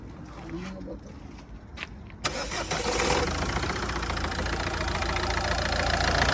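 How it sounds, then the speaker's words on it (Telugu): After a few quiet seconds with brief voices, a Ford Figo with 2.5 lakh km and a weakening engine cranks and fires, then settles into a loud, steady idle with a slightly harsh tone. "ఒకసారి వెహికల్ స్టార్ట్ చేయి"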